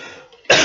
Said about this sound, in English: not dying, just coughing.